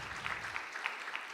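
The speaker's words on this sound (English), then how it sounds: "I would just like to ask us to clap for ourselves" Audience at an agricultural finance learning event clapping together, a steady burst of applause with sharp individual claps rising and falling, moderately near.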